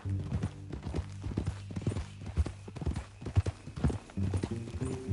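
Horse hooves clip-clop steadily on a road in Red Dead Redemption 2, a close and continuous rhythmic trot with game music and faint voices underneath.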